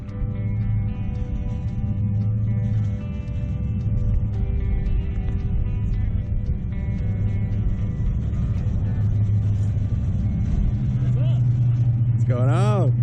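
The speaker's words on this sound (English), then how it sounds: "Here comes that Harley truck putting in work." A Harley pickup truck pulls up while towing a car, a steady low engine rumble building as it approaches, with a person talking over it near the end.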